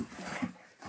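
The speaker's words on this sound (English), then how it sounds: "I got a new puppy." A new puppy gives a short, soft whimper close by, a faint high whine with a quiet pant in a calm indoor space.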